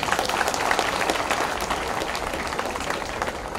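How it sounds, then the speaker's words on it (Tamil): Audience applause at a Tamil comedy speech event honoring children who sang, a dense, even roar of clapping from a crowd, sustained and moderately loud throughout. "பாடின அந்த பிள்ளைகளுக்கு ஒரு கைத்தட்டு கொடுக்கணும்."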